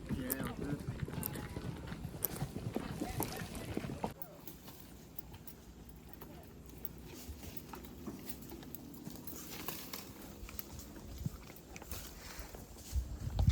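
A horse walks with steady clip-clopping hooves during a Caribbean holiday outing, heard alongside people talking, busier in the first few seconds and then quieter under ongoing chatter.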